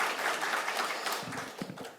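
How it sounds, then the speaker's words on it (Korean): A church congregation at a Thanksgiving Sunday service claps together, a fairly quiet, dense patter of many hands that thins out toward the end. "박수로 한번 격려하도록 하겠습니다"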